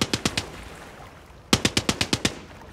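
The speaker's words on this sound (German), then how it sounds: "Auf wen schießen die denn?" Rapid automatic gunfire from boats in the shooter game Far Cry 6 rattles in two bursts, a short string of about four shots, a pause, then a longer run of about seven sharp reports.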